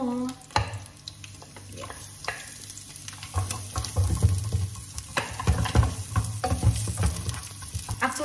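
Mixed vegetables and a small amount of meat fry in hot oil in a pan on an electric stove, with a steady loud sizzle, bursts of stirring and a brief spoken word near the start.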